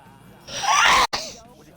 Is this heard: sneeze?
yes